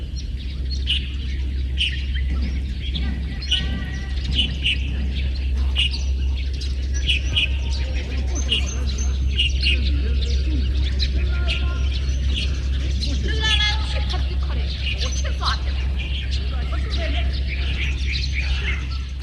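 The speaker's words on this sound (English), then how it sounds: "The sounds you're hearing are recorded bird sounds." Recorded birds chirp and call in Xiangshan near Ningbo, a busy overlapping mix of tweets and trills over a constant low hum.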